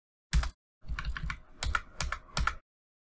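Python code is typed on a computer keyboard in a quiet room, close-up, as a single keystroke followed by a short irregular run of several clacking key presses.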